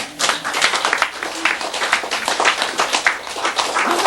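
Members of a Buddhist sutra lecture audience clap together in a steady, dense patter that runs throughout, fairly close and even in loudness, with no talk over it.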